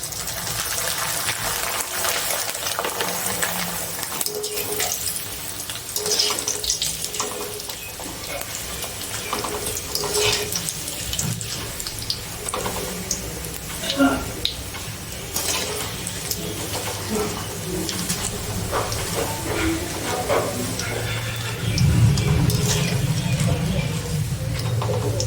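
Corn flakes (makai poha) frying in hot oil for chevdo, a steady broadband sizzle that runs the whole time with no talk. It swells into a louder, fuller hiss near the end.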